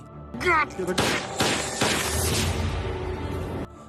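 Several sharp sniper gunshot cracks in quick succession, loud and close, trailing into a rumbling, noisy tail.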